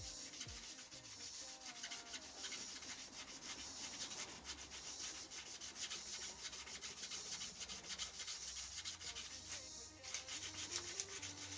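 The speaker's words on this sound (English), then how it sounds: "this sanding will take care of that" Steady, continuous abrasive sanding against a spinning ebony and deer antler pen on a lathe, with a low motor hum running underneath throughout and no voices.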